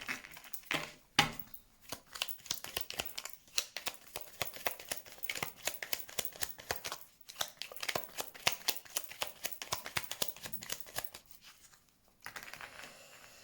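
Tarot cards being shuffled and cut by hand, producing rapid, close, crisp riffling flutters in continuous bursts with brief pauses, fairly quiet throughout.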